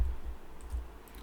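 Someone types a web address on a computer keyboard, a brief run of soft, quiet key taps.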